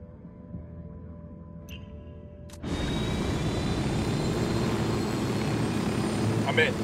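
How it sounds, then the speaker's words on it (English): A helicopter in the Ghost Recon Wildlands video game starts up with a sudden jump to a loud, steady rotor and engine roar that holds to the end, after a quieter stretch of low background hum. "We got your chopper."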